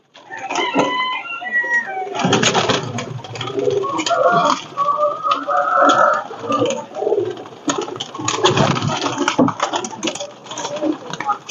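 A Pakistani Dabla pigeon coos among other fowl, with a rooster crowing and clucking mixed in, loud and busy over several seconds against a cluttered yard background.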